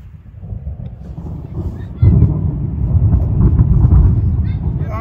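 Low rumbling thunder rolls through a lightning storm, building in loudness partway through and staying heavy with gusty wind noise, while people talk over it.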